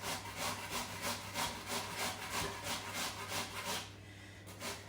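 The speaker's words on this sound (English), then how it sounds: "here I'm going to grate my potatoes into the J-cloth" Raw potatoes rubbed against a hand grater for rosti, giving a steady rhythmic series of rasping strokes that stop near the end, close and moderately loud over a low background hum, with no talking.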